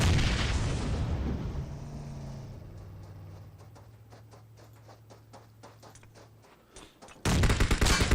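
Loud grenade blast in the battle royale game PUBG, a broad rumbling boom that fades over several seconds under rapid distant gunshots, then another sudden loud burst at the end.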